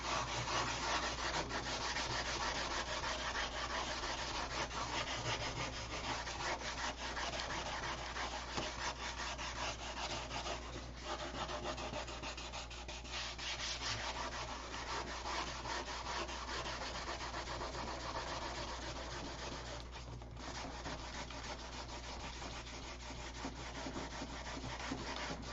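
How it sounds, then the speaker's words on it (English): A flat wooden surface being hand sanded with a sanding block, giving a continuous, steady rasping scrub of abrasive on wood, close and even for the whole stretch with no talking. "I'm sanding this flat surface with a block."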